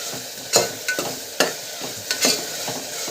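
Soaked rice frying in a pan with salt and a pinch of turmeric, with a continuous sizzle broken by several distinct scraping stir strokes spaced about half a second apart.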